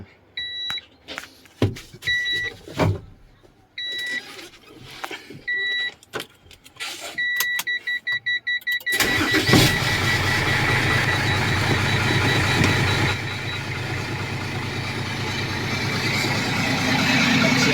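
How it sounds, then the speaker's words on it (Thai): A customized dump truck's engine cranks and catches after a series of dashboard beeps, then settles into a loud, steady idle with a throaty rumble that continues to the end. "ฟังเสียงเครื่อง"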